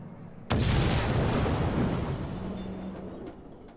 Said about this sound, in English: the enormous explosion that ripped through the experimentation stage at the Great Exhibition